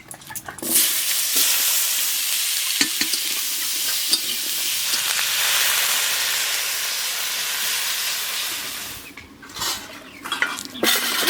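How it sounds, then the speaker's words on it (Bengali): Cubed kohlrabi and potato fry over a whole cumin and bay leaf tempering, a loud continuous sizzle and hiss with stirring scrapes that quiets and breaks into clatter near the end. "এখন ওলকপি রান্না করব তার জন্য গোটা জিরে আর তেজপাতা ফোড়নে দিয়ে দিচ্ছি কেটে রাখা ওলকপি আর আলু"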